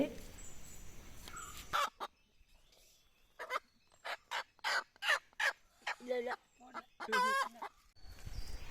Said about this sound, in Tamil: இன்றைக்கும் முட்டை போட அதே இடத்துல ரெண்டு கோழி உட்காந்துருக்குது